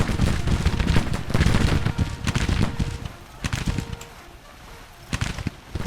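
Volleys of musket and rifle fire crack across a Civil War battlefield in an American Civil War game, with dense overlapping shots at first, then sparser scattered reports near and far.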